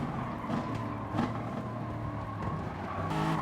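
A race car in Gran Turismo Sport revs hard and steady with brief tire squeals as it runs in a pack early in a race, the engine droning loud and close throughout.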